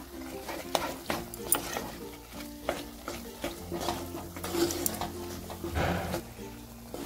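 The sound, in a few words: paneer pieces being sautéed and stirred in a pan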